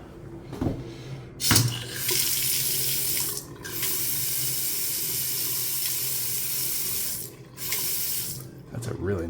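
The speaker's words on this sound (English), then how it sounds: "That's a really nice faucet." Water running from a newly installed faucet, a steady hissing stream that cuts off briefly twice and resumes, close and loud, with a couple of knocks and handling sounds near the start.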